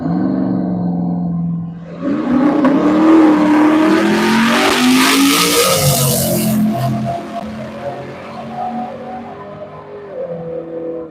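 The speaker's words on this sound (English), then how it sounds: "This S10 will leave some pretty cool wheelies." A Chevrolet S10 drag racing truck with a 6.0 LS V8 launches at a drag strip, its engine swelling from idle into a loud, rising roar that sweeps away and fades into distant rumble.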